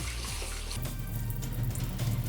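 Moth beans are rinsed under running water, a steady close rush and splash from a tap with some sloshing, and no voices over it.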